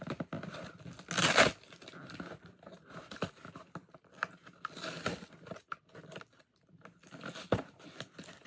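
Jordan Spizike sneaker packaging being opened: several sharp bursts of tearing and crinkling plastic and paper, separated by quieter rustling and handling noises, close up and with no talk.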